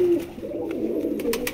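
Rampuri pigeons coo in a loft, a low throaty rolling call close to the listener, steady and fairly loud with faint rustling between notes.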